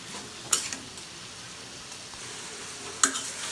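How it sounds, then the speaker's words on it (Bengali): Bitter gourd stir-frying in a pan for a prawn curry, a low steady sizzle with two sharp utensil scrapes or clinks against the pan, one near the start and one near the end, without talk. "এখন এটাকে আমি ভালোভাবে নেড়ে চেড়ে একটু ভাজা ভাজা করে তারপর পানিটা দিয়ে দিব"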